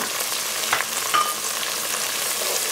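Green chillies frying in a pan of oil for pulao, giving a steady close sizzle and crackle throughout with a couple of brief louder spatters, no voices.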